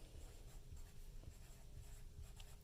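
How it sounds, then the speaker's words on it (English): Pencil or pen writing a name by hand on a paper math worksheet, a quiet steady scratching close by with no talking. "so I'm going to write"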